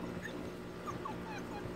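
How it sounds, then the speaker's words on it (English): An Aussiedoodle puppy whimpers outdoors near house steps, a few short high whines over a steady low background hum, faint and brief. "It's an Aussiedoodle puppy."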